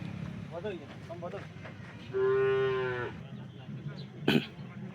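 A single long, loud cow moo rises over a Porbandar cattle sale, where pregnant cows are being sold; it lasts about a second against a murmur of background voices, and a sharp clatter follows.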